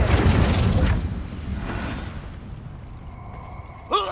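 The Incendio fire spell from Hogwarts Legacy erupts in a loud, booming burst of flame that roars briefly, then fades over a second or so, ending with a faint metallic chime.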